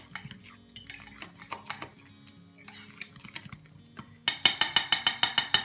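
A spoon clinks against a bowl while stirring bowl cake batter with chocolate chips: scattered soft taps at first, then a fast, steady run of sharp metallic strokes close by.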